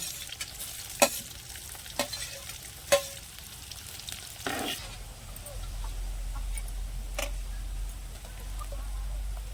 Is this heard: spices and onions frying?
yes